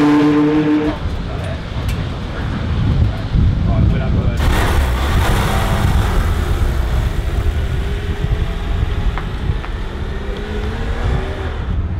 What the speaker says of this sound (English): that was Formula One star Max Chilton about to spank a Porsche 911 4-litre RS